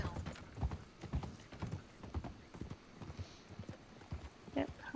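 Horse hooves clip-clopping in a video game, a steady trotting rhythm of close hoof thuds under talk.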